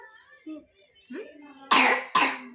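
A child coughs twice in quick, harsh bursts near the microphone, after some soft babbling and small vocal sounds.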